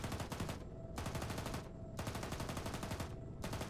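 Sustained automatic gunfire from the Arma military shooter in a ShackTac squad session, loud, dense bursts of rapid shots with brief gaps between volleys, no talk.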